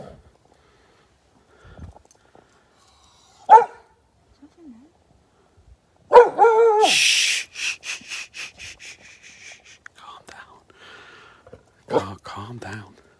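A dog barks in a quick run of sharp barks outdoors at night on Pendle Hill, with people talking softly and scattered rustling before and after.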